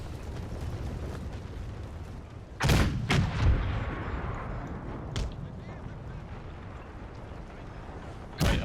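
Cannon fire in a video game battle of the 1864 Second Schleswig War: several sharp booming shots, a close pair and later single distant-sounding blasts, over a constant low battlefield rumble.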